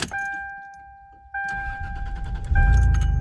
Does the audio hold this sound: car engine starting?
yes